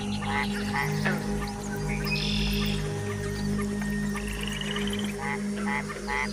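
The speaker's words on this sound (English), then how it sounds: "the Mexican white-lipped frog makes a series of chirping sounds" Short chirps from a Mexican white-lipped frog repeat in small bursts through a busy night-time jungle chorus, joined by other calling frogs, bird-like whistles and buzzing insects.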